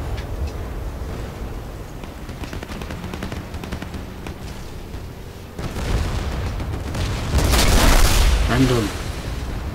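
In the Battlefield Play4Free game, a vehicle is destroyed amid constant gunfire and engine rumble, with a louder blast and crackling debris bursting out near the end, while someone talks over it.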